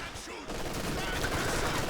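Rifle and machine-gun fire crackles in the real-time strategy game Company of Heroes 2, a rapid, steady fusillade of shots at moderate distance that holds for a couple of seconds beneath a commentator's voice.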